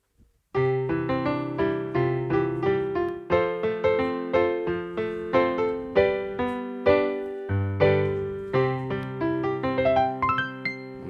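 A Yamaha PSR-180 electronic keyboard's piano voice plays a lively passage of struck chords and melody notes, each decaying quickly, played solo and close.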